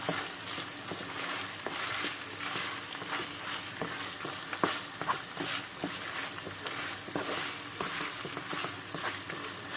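Meat and red pepper flakes sizzle and fry in a pan for Mersin tantuni, a steady loud crackle broken by sharp clicks of stirring utensils scraping the pan.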